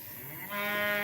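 A beef cow moos once outdoors on a farm, a fairly close, rising low call that swells midway and holds to the end.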